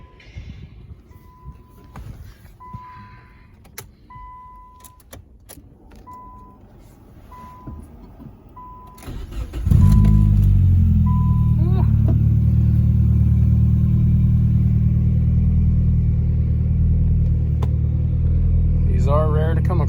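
A 2.0-litre SR20VET engine swapped into a B15 Nissan Sentra cranks and fires after about ten seconds of shop noise and beeps, then settles into a loud, steady, close rumbling idle with a brief rev.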